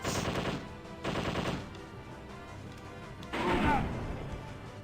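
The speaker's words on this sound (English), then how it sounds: "Machine gun" In the Zombie Revenge video game, a machine gun fires in three loud rapid bursts with short quieter gaps between them, and the last burst sounds harsher.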